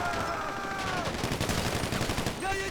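Gunfire in GTA 5 as a fast run of gunshots that thickens into a rattling volley over a roar of engine and game noise, loud and continuous, with a short tonal sound at the end.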